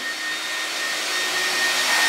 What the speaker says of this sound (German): Hier läuft noch ein Staubsauger.